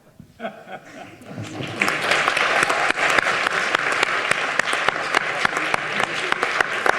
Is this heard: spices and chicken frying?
no